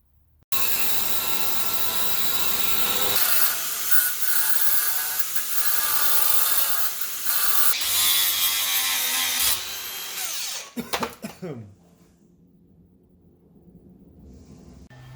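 Loud, continuous power-tool cutting as a bracket is cut off a bagged Ford F100 truck, grinding steadily for about ten seconds before stopping abruptly, followed by a few clanks and near silence.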